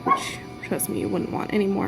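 A small dog yips and barks a few times in quick succession while a person talks over it nearby.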